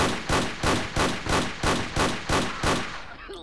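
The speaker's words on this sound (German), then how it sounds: "Gibt einen neuen Schuss-Sound" Gunshots from an enemy in the Tomb Raider game: seven evenly spaced loud bursts, roughly two per second, each a broad crack with a short tail, then a fading ringing end.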